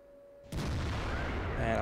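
ISU-152 tank destroyer's main gun firing in World of Tanks, a single sudden heavy boom followed by a rumbling roar that sustains to the end, with faint talk behind it.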